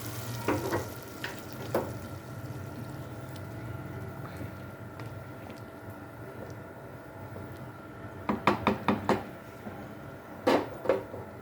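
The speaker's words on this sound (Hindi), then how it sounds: "ये देखिए हमने तड़के को इसमें शामिल कर दिया।" Hot tadka sizzles steadily as it goes into a pot of cooking chana and mash dal, with sharp clinks and knocks of a utensil against the pot. The knocks come in short clusters near the start and end, and no one speaks.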